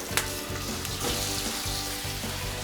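A steak fries in a pan with thyme and butter, sizzling loudly and steadily up close while spoon-basting clinks in a regular rhythm.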